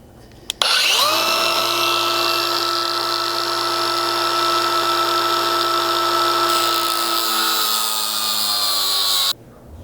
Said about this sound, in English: this cordless grinder with a cutoff disc installed